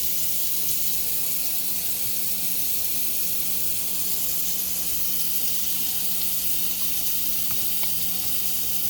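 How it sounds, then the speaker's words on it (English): Running water from a tap rinses foam away in a steady, even hiss that lasts throughout, heard up close with no one speaking. "I'm just gonna Give that a quick rinse, get rid of the foam."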